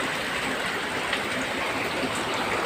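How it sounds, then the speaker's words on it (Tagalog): Heavy rain pours steadily onto a house with a leaking roof, a dense, unbroken roar of close, loud downpour with no pauses and no voices. "Uy, grabe ka na ulan."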